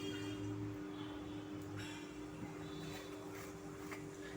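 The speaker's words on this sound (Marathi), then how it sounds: "आता आपण छान अशी जिरी मोहरी तडतडून घ्यायची आहे" Mustard seeds and cumin splutter in a spoonful of hot oil in a small tempering pan, giving faint, scattered crackles and ticks over a steady low hum.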